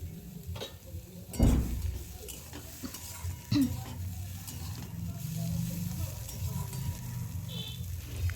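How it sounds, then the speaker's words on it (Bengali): Bitter gourd pieces frying in oil with nigella seeds in a wok, giving a soft steady sizzle with occasional stirring scrapes and knocks, no talking. "কড়াতে তেল দিয়ে কালো জিরে ফোড়ন দিয়ে উচ্ছেগুলো তুলে দিয়েছি।"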